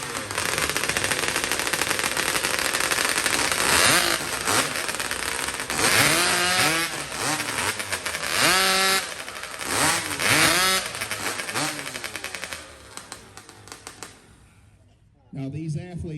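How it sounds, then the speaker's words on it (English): Several chainsaw motors being started and warmed up before a chainsaw racing event, loud overlapping revving and sputtering engines with rising and falling pitch throughout, a commentator talking over them, dropping away briefly near the end. "they have 1 minute within which to warm up their motor, get it started"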